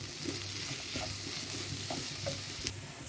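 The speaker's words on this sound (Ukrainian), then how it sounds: "Перемішуємо добре все разом." Peppers and vegetables sizzle steadily in a pan while a utensil stirs them, with soft scraping and clinks over the constant frying hiss.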